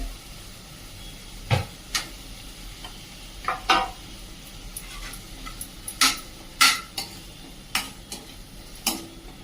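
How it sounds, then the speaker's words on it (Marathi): Onion sautéing in butter in a pan for hotel-style palak paneer, a soft steady sizzle broken by scattered clicks and scrapes of stirring, fairly quiet, with no voices. "आता कांदा छान परतून घेऊया व्यवस्थित"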